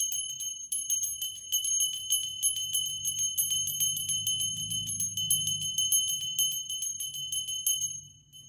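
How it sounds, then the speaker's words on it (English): A small bell rings in a fast, steady tinkling shimmer for about eight seconds, carried over a soft low hum, then stops abruptly near the end. "just a little bell"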